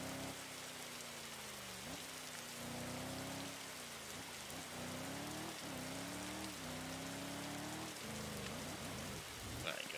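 Steady rain falls in a rainy video game scene, an even hiss of drops with faint, low rumbling, constant throughout the short stretch.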